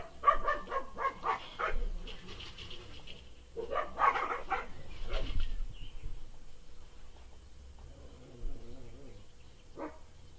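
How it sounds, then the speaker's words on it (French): Neighbours' dogs barking nearby, several sharp bursts in clusters at the start and middle, followed by quieter whimpering and a final single yip. "C'est les chiens d'à côté."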